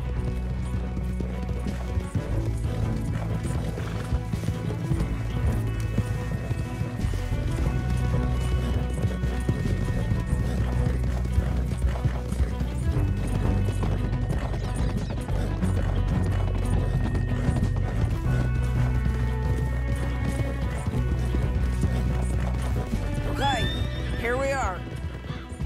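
Horses gallop in the video game Red Dead Redemption 2 with rapid clip-clop hoofbeats over a dense, continuous soundscape, and a horse whinnies near the end.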